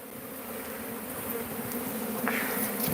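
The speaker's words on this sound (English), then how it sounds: "We're just going to brush the bees off." A dense swarm of bees hums loudly and continuously at close range around an opened hive, the buzz steady with a brief rise near the end.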